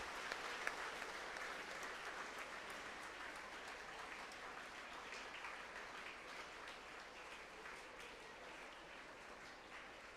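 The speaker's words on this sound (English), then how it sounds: "please give a big round of applause to the parents of Sai Sudarshan" A sustained round of applause from an audience at a school event honoring guests, dense and steady clapping filling the whole stretch with no voices over it.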